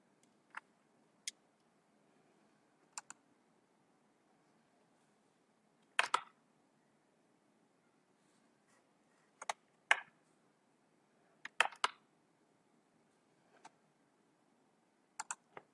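Keystrokes on a computer keyboard while working in Microsoft Word: about a dozen sharp, isolated clicks, some in quick pairs, spaced irregularly over near silence with no talking.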